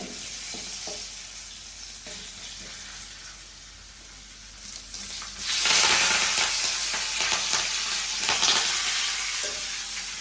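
Peeled garlic cloves drop into hot oil in a pan for a fish and tomato curry, with a soft sizzle that jumps to a loud bright frying hiss midway, accompanied by occasional scraping stirs, close and without talk.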